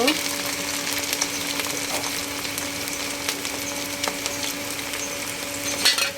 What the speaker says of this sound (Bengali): এটা ভাজা ভাজা করবো